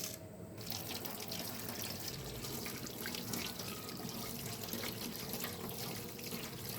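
Tap water pours steadily into a sink as coriander leaves are washed by hand, a continuous close splashing rush with faint drips and handling noises throughout.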